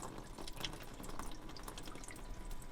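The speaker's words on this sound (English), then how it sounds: "Another leak." Water drips from a leaking port light on a sailboat during pouring rain, a scatter of small irregular ticks and splashes over a quiet watery background, close by and faint.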